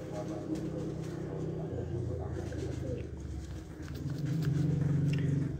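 Bred pigeons coo in low, throaty rolls close by on a rooftop, mixed with people talking and general background bustle.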